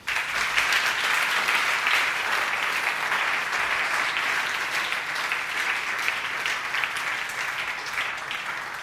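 A church congregation applauds at a Sunday service, dense sustained clapping from many hands that keeps an even loudness for several seconds without pause.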